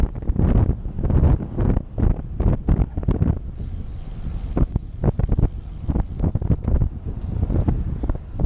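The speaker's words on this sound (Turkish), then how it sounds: "Çok rüzgar var, çok." Strong wind buffets the microphone in loud, rough gusts that rise and fall continuously while road cycling, with no voices.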